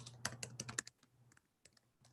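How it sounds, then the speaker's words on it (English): A burst of quick keystrokes clatters on a computer keyboard, about ten close taps in under a second, then a pause and a few sparser clicks. "So you can create data sets like this by just typing in stuff."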